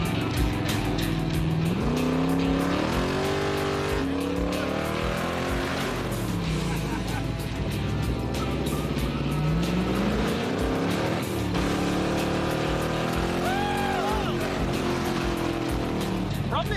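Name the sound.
1974 Chevy Corvette engine accelerating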